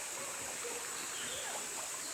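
Spring water flowing in a stream at Bilar, a soft continuous trickle and gurgle, fairly faint and steady over a short stretch.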